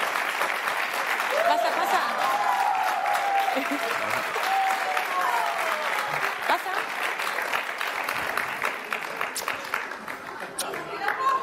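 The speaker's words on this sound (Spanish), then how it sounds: "Pido un aplauso para él, por favor, que ha venido." A television studio audience applauds a returning guest, a dense, steady round of clapping that lasts throughout, with a presenter's voice and scattered crowd chatter over it.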